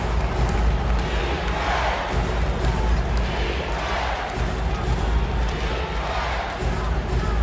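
A basketball arena crowd roars and cheers in an EA Sports NBA video game, Hornets at Trail Blazers, a loud sustained din beneath a play-by-play commentator talking throughout.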